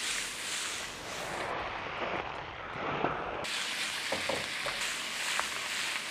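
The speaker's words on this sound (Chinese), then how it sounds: "先把鱼头煎一下，锅热油热，煎鱼它就不脏" A fish head fries in hot oil in a wok, giving a quiet, continuous sizzle with occasional sharper spits and crackles.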